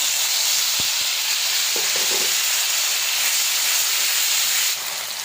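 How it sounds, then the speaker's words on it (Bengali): Tomato and green chilli paste, with ginger paste, sizzles steadily in hot oil over cumin and asafoetida, a loud, continuous broadband hiss with a few brief clinks of a spoon partway through. "টমেটো বাটা কাঁচা লঙ্কা বাটা দিয়ে দিলাম"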